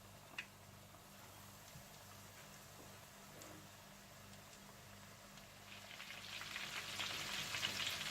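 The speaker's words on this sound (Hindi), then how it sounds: "चिकन तेल में डालने के बाद आपने इसके अंदर एकदम से चम्मच नहीं चलाना और इसे हल्की आंच पर पकाना है।" Chicken drumsticks coated in flour fry in hot oil over a low flame, giving a faint, steady sizzle that grows louder and brighter toward the end, with no talking.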